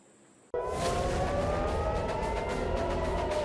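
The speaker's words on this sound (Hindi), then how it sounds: "ईरान की वजह से इजराइल में आजकल इसी तरह हमले का सायरन बजने लगता है।" An air raid warning siren sounds in Israel. A faint high steady tone is followed by a loud, sustained wail with slowly gliding pitch that fills the rest of the clip without pause.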